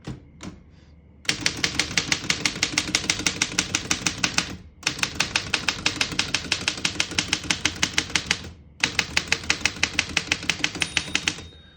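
A 1927 Underwood No. 5 vintage desktop typewriter clacks in rapid, even keystrokes, loud and close, in three long bursts separated by brief pauses, with no voices.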